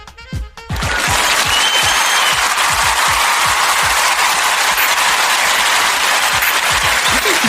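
Recorded applause triggered from a soundboard button, a dense, loud wash of clapping and crowd noise that starts abruptly after a brief moment of talk and runs on steadily.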